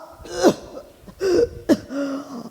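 A person coughs and clears their throat in a few short, harsh bursts, close and fairly loud, spaced out over a couple of seconds.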